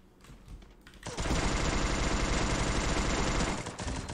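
Rapid automatic gunfire from a shooting video game, a dense loud burst that starts suddenly after a second of quieter game sound and holds steady for nearly three seconds before easing off.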